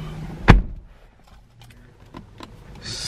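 A 2018 Mazda CX-9 Signature's car door opens with one sharp, close clunk from the latch. Faint rustling and small knocks follow in a quiet cabin.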